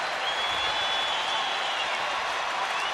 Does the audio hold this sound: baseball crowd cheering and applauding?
yes